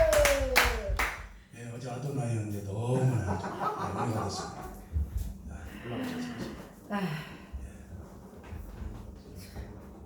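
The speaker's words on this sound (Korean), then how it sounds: "박수로 모시겠습니다" Applause breaks out at a church revival meeting as a preacher is welcomed to the front, a short burst of clapping near the start followed by a voice talking with some chuckling over faint scattered claps.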